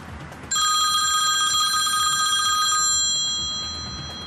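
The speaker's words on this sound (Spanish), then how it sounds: "Y de golpe suena el teléfono de Nico y cambia completamente la historia." A telephone starts ringing loud and close, a sustained electronic ringtone of bright stacked tones that holds steady for a few seconds before easing off over a low background hum.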